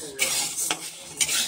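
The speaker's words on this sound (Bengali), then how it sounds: "একটু শুকনো খোলায় নেড়ে নিতে হবে" Ingredients dry-roasted in a pan without oil are stirred, giving close scraping and rasping strokes in a few quick bursts over a faint sizzle, with no talk.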